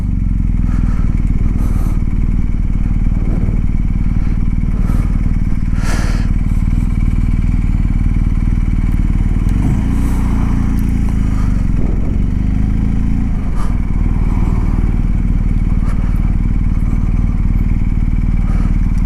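A BMW R1250 GSA motorcycle creeps slowly through Sunday-morning traffic in lousy weather, its engine a constant close, loud rumble mixed with wind noise and light clatter, with gentle rises in revs.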